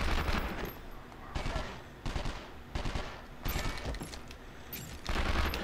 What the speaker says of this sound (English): Please keep them from shooting me.